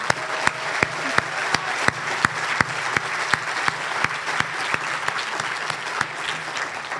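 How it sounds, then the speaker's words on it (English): Rotary luncheon audience gives a round of applause for an officer, steady clapping over about seven seconds with regular sharp, louder claps punctuating the wash of hands. "let's have a round of applause"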